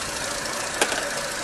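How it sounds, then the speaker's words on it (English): A car engine idles unevenly and hunts, giving a steady broadband running noise with one brief sharp knock or rattle partway through. The car has a flat battery and low oil. "You can hear the engine, which is hunting a bit."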